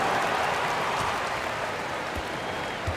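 Arena crowd applauding for the Florida Gators dancers during a timeout at a PBA basketball semifinal game, a steady dense wash of clapping that holds loud throughout.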